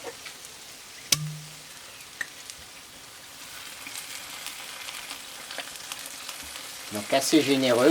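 White wine is poured into sizzling tomato sauce in a pan on a kamado, making a steady soft frying hiss with one sharp clink early on. A person speaks briefly near the end.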